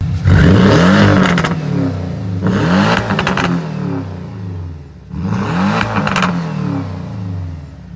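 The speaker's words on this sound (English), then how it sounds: "providing a completely unfiltered exhaust note, letting me hear the 718's true voice" Three loud, raspy exhaust revs from a modified Porsche 718 Cayman S with an unfiltered straight-pipe exhaust close by, each rising sharply then dropping off, with brief pauses between bursts.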